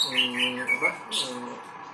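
A canary kept for song competitions sings bright, short trilling phrases with rapid chirps and warbles, close and clear. A voice runs beneath the birdsong.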